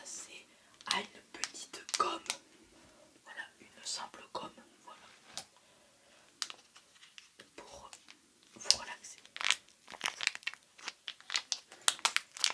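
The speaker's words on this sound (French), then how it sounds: "Alors là, on va passer à une petite gomme." A small eraser is handled close to the microphone in a quiet ASMR setting, making soft crinkling and rubbing scratches in irregular bursts mixed with whispering.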